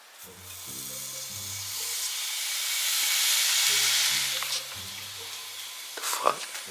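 Bacon frying in a pan on a home stovetop, a broad steady sizzle that swells and fades under bursts of tonal music, with a couple of sharp clatters near the end.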